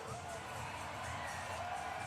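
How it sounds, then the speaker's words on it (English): An Edmonton Oilers home crowd at an NHL playoff hockey game against the Vancouver Canucks cheers loudly and continuously, a dense roar of shouts and whoops filling the arena. "The Oiler crowd is pumped up here tonight."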